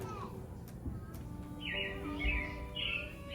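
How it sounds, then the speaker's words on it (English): Bright robin chirps repeat in short bursts over a steady low background hum, fairly close and clear, inside Walt Disney World's Carousel of Progress. "It looks like the Robins are getting ready to celebrate Valentine's Day today."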